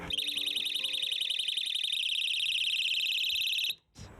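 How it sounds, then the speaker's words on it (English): A burglar alarm supplied by the police sounds a loud, rapid electronic warbling pulse that runs steadily for several seconds, then cuts off abruptly with a brief trailing blip. "Having fitted an alarm provided by the police, he hopes thieves will be deterred in the future."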